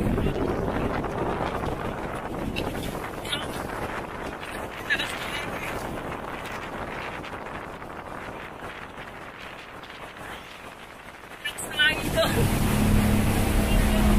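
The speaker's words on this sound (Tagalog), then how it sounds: "Lakas ng hangin." Loud, blustery wind buffeting the microphone continuously aboard a yacht off Bandar Khiran, Muscat, Oman, rumbling with gusts, with water and a motor faintly beneath.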